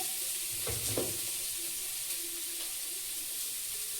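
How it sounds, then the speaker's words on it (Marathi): Tomatoes tipped into a hot pan over a lowered flame, hissing in a steady sizzle with a couple of clattering stir strokes early on, fairly close and without talk. "आता आपण टमाटर टाकूया"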